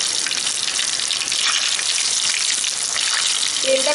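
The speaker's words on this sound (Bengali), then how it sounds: "তেলটা খুব ভালো মতো গরম হয়েছে বলে দেখো গোবিগুলো দেওয়ার সঙ্গে সঙ্গেই কিন্তু ব্রাউন হওয়ার স্টার্ট হয়ে গেছে" Cauliflower florets (gobi) drop into hot oil and fry with a loud, dense sizzle that holds steady, brightening slightly near the end; no speech.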